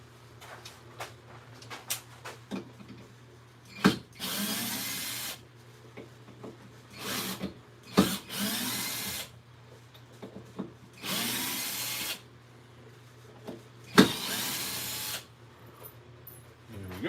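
A handheld power drill whirs in several bursts of a few seconds each, close and loud, with sharp clicks and bumps between runs in a woodturning workshop.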